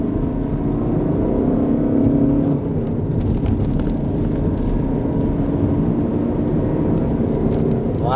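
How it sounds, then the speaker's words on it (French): Renault Avantime 150 hp diesel accelerating hard from a standstill to 100 km/h, a steady loud engine drone heard from inside the cabin with road noise, no talk over it. "On va se tenter un petit 0 à 100, hein, en respectant toujours la limitation de vitesse, bien sûr."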